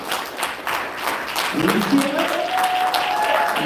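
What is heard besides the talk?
audience applause for storytellers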